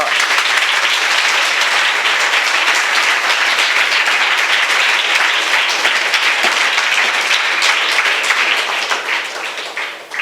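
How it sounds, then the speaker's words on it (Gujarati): An audience at a memorial gathering for a charitable institution claps in a long, loud, uniform burst of applause that holds steady before tapering slightly at the end. "તો વાઘેલાભાઈ માટે તાળી પાડવા જેવી છે."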